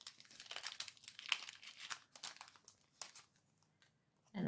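Nail stickers are peeled off a sheet for decorating an Easter egg, giving soft, close crinkling and light tearing rustles in short bursts with quiet gaps.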